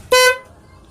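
One brief, loud, tonal honk from a dual snail horn on a bus, with a rich harmonic buzz, close by, fading quickly into quiet.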